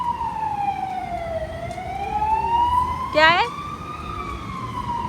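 An ambulance siren wails steadily in a slow rising and falling tone on a street in Baku, loud and continuous, while a voice speaks briefly over it.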